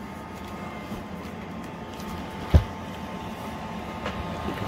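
The battery-powered blower of a homemade bubble hood mask runs with a steady low hum and faint whine, broken once by a short thump.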